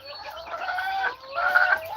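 Chickens on a farm in Aklan cluck near a metal cage, with a steady run of close, throaty clucks and a brief pause midway before the calls pick up again.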